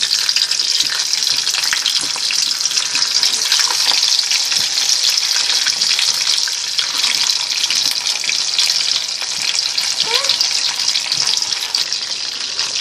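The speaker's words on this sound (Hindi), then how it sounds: "इसे हम अब डीप फ्राई करेंगे मीडियम फ्लेम पे।" Prawn rolls deep frying in oil over a medium flame give a steady, loud sizzling hiss that runs throughout with no talking.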